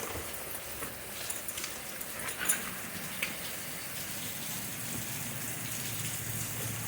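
Rain falling outside a house with dogs, a steady soft patter and hiss of drops with a few louder splashes, continuous throughout.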